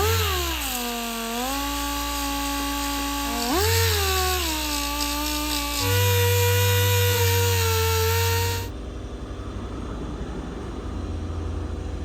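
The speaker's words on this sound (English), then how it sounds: "we're also gonna sand down some of the larger, deeper gouges on our stator cover" A power sander grinds down deep gouges on the stator cover of a wrecked 2009 Yamaha R6. A loud, steady whine shifts pitch a few times, then cuts off, leaving a quieter hum.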